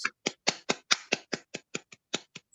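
About a dozen separate hand claps ring out close by at a steady, slightly slowing pace, each one crisp and distinct, in a small gathering honoring a resident at a community life-story showcase.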